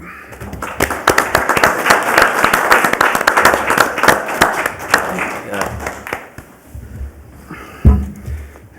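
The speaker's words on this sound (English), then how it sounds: "So I just wanted to give you a round of applause for that real quick." Applause at a fire board meeting, a burst of uneven hand clapping from a small group in a room that swells, then thins out, with voices talking over it toward the end.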